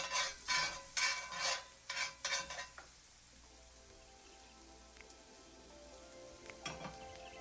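Minced garlic hits a hot pan and sautés, opening with several bursts of stirring and scraping over a sizzle, then settling into a quieter, steady fry with a few faint clicks, close and alone.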